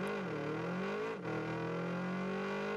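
The Jäger 619 car's engine in the video game Rocket League revs steadily with a high, sustained whine that briefly dips near the middle, then climbs back and holds, loud and close.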